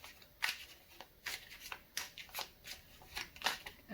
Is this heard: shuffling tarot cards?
yes